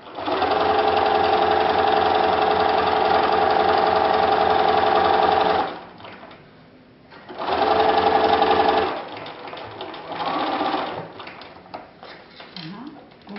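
A sewing machine stitches an invisible zip into a garment. The motor runs steadily and loudly for several seconds, stops briefly, then makes two shorter runs with quiet pauses between them.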